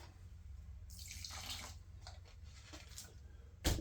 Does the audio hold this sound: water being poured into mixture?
yes